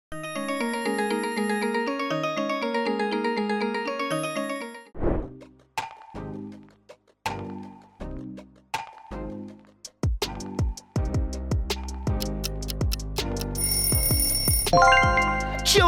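A Kyocera smartphone ringtone plays a bright synthesized melody, first a sustained chiming phrase, then sharp plucked staccato notes, building into a denser, louder electronic flourish at the end.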